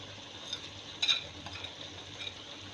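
Chicken frying with salt, chilli, coriander and garam masala in a pan, giving a soft continuous sizzle with a few brief stirring scrapes, close but fairly quiet.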